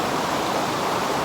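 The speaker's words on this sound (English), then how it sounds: "there's the waterfall right there. That's where the water goes over." A waterfall where a river drops over toward a downstream powerhouse, heard as a steady, dense roar of falling water, continuous and fairly loud with no break.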